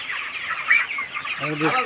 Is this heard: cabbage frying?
no